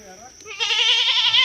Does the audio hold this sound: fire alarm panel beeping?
no